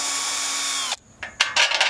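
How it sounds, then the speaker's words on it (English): A power drill boring a bolt hole in a car, first a steady high whine that cuts off abruptly, then brief silence and several short, sharp bursts of drilling. "We're gonna go drill that out."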